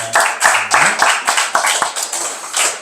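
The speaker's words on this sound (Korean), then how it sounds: "우리 그렇게 역사하신 하나님께 영광의 박수를 드립니다" Worshippers clap during a church service, a close, loud round of applause with distinct rhythmic beats roughly every quarter second that gradually blur into steadier clapping near the end.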